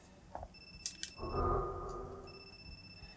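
A mobile phone rings in the Wii horror game Calling: a steady electronic ringtone tone sustained for about two seconds after some brief beeps, fairly quiet, with no talking.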